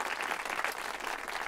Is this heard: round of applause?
yes